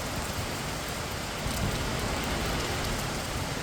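Heavy rain falls over a still river in Kochi, a thick, constant roar of drops drumming close by with no wind and no voices.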